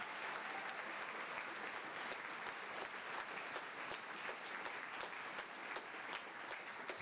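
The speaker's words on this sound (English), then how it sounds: "So a round of applause for them." Steady applause from a school concert audience in a large hall, dense and continuous from start to finish with no voices over it, heard from a distance.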